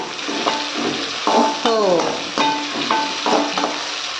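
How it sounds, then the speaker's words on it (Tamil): Tomatoes sautéing in a pan for a Tamil curry leaf kuzhambu, a close steady sizzle broken by repeated scraping stirs of a spoon against the pan at a regular rhythm. "தக்காளி வந்து வதங்கிறதுக்குங்க."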